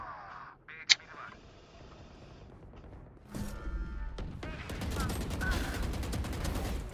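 Rapid bursts of gunfire ring out in the video game Valorant, a sustained spray of crackling shots that grows louder after a quieter start, with brief talking over it.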